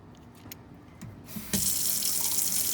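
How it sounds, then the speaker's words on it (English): A few small clicks and knocks, then a tap is turned on and water gushes steadily into a sink while a paintbrush is washed by hand, loud and close. "a really important aspect to washing your paintbrush is first, yikes, you are going to get your hands wet"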